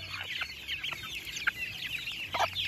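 Young chicks cluck and peep busily while pecking at leftover cold cooked rice, with a dense overlapping chorus of small chirps and a few sharper calls close by, without talk.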